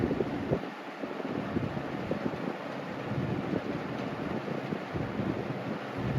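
A 1998 Lasko 3733 fan runs on medium speed with a rattling handle, a steady close whooshing airflow with low rumble throughout, no talking.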